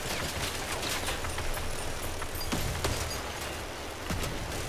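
Steady barrage of gunfire striking an armored vehicle in the game Crossout, with dense overlapping hits and sharper impacts scattered throughout, continuous and fairly loud.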